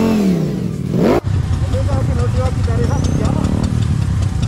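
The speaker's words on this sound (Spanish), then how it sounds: "Mirando esta Ducati, creo que es una Street Fighter. Vamos a escucharla como prende." A Ducati Streetfighter motorcycle out on a group ride revs loudly nearby, its pitch sweeping down, then the engine settles into a rough, throbbing rumble with short blips of throttle.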